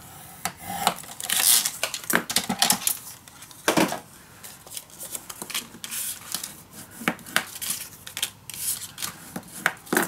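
Scrapbook paper being cut and folded at a craft table: irregular crisp snips, rustles and light taps close by, some sharper clicks scattered throughout.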